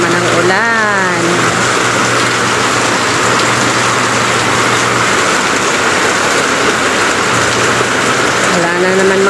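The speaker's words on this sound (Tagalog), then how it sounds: "Oh, malakas na naman ang ulan." Steady heavy rain pours down loudly and continuously, with a low engine drone in the background and a brief voice at the start and end.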